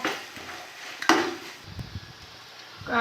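Biryani masala with curry leaves and green chillies is stirred in a pot, with a few scattered clinks and scrapes of the spoon against metal and a soft background hiss. The sounds are moderately close and there is no talking.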